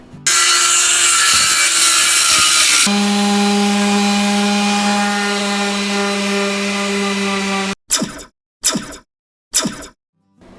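A power saw cuts molding and plywood for a craft project, giving one long, loud, whining cut with a steady pitch. It is followed by three short, sharp cuts separated by silence.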